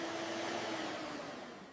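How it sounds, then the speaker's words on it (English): A vacuum cleaner runs over a household living-room carpet with a steady whining motor drone, close and continuous, easing slightly toward the end. "I vacuum the carpet now."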